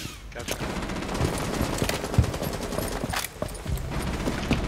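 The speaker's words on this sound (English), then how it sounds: "That's Cav shooting my Twitch" Rapid automatic gunfire from the operator Cav in Rainbow Six Siege, during a House TDM Secure match, rattles on continuously in dense bursts while players' voices sit faintly beneath.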